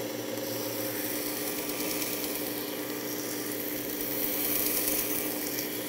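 A broken knife tip is ground on a 120-grit abrasive, giving a steady close whirring hiss that grows slightly louder near the end.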